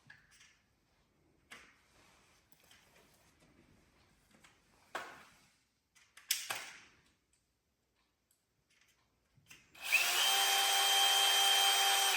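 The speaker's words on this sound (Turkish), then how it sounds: "Vidayı içeriden atıyoruz" A power drill drives screws to mount an LED light fixture, reusing the old screw holes and wall plugs. Scattered clicks and handling knocks come first, then a loud, steady drill whir runs continuously to the end.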